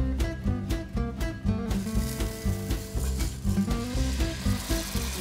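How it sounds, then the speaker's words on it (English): Shallot sautéing in hot oil in a pan during a home cooking demonstration. A steady sizzle sits underneath rhythmic background music that dominates the mix. "we're going to start sauteing our shallot"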